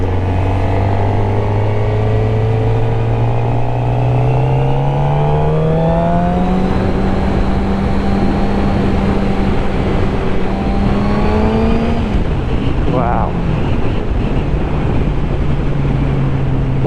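A 2016 Suzuki GSX-R750 sportbike being ridden, its engine whining loud and close as the revs climb through the gears, with pitch drops at each upshift and a brief dip before pulling again.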